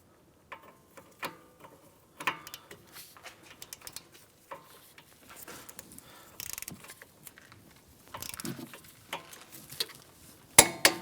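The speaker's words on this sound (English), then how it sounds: "These are going to get torqued down to 70 foot-pounds." A torque wrench tightening the front caliper bracket bolts to 70 foot-pounds on a 2015-2019 Hyundai Sonata, giving scattered ratcheting clicks and short metallic bursts with brief quiet gaps, close and fairly soft.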